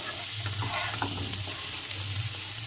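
Pointed gourd and potato pieces frying in oil, a loud steady sizzle with repeated stirring scrapes of a spatula, close up and without speech.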